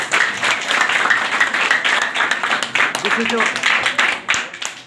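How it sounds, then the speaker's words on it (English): A classroom of students claps together in a loud, sustained round of applause while a voice talks over it. "we have to clap for that"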